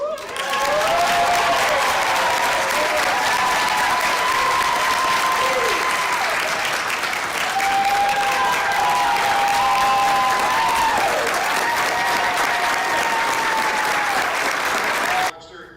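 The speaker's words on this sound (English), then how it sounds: "that round of applause, standing ovation from our staff" Loud, sustained applause as school staff give a teacher a standing ovation at a board of education meeting, dense clapping with cheering voices and whoops over it, ending abruptly.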